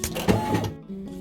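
An embroidery machine stitches tan rabbit fabric, a rapid mechanical rattle of needle strokes up close that briefly pauses then resumes.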